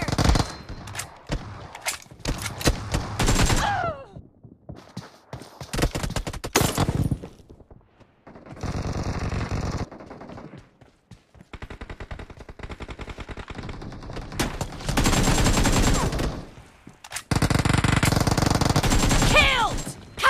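Gunfire in a BGMI eight-versus-eight team deathmatch, with long bursts of rapid automatic fire separated by short pauses, loud and close, and a few faint tonal game sounds between volleys.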